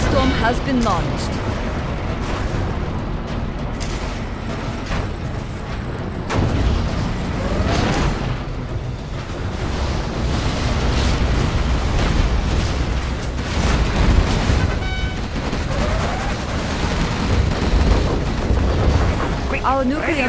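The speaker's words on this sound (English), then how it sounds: "Our Scud Storm has been launched." Dense, continuous battle noise of repeated booming missile-strike blasts and explosions in the video game Command & Conquer Generals Zero Hour, loud and rumbling throughout, with voices faintly mixed in.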